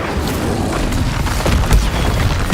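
A fire spell blast from Hogwarts Legacy, heard as a dense rumbling burst of low booms with a slightly stronger thud near the end, sitting over constant combat noise with no talk.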